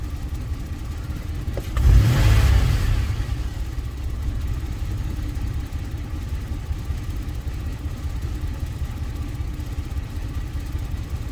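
Car engine with a suspected small misfire and a P0303 cylinder three code, idling steadily and close after a brief rev near the start, with a low uneven rumble that continues throughout.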